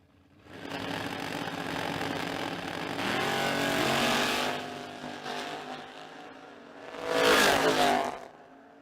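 A Mustang and an Opel drag racing down a strip: a roaring engine holds high revs and shifts, then fades, followed by a second loud surge of revving as a car passes, heard at a distance.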